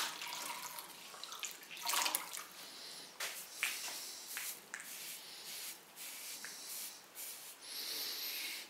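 Water running while a sponge washes decoration off a footed pottery bowl, with intermittent splashing and wiping bursts over a steady trickle, close up and fairly quiet.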